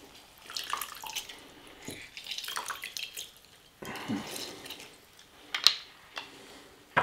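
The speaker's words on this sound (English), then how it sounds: "I'm going to use our lemon squeezer here. It works real good, keeps the seeds out. Squeeze two lemons." A hand lemon squeezer presses two lemons, keeping the seeds out, giving sparse close-up drips and small wet squelches with quiet gaps between them and no talking.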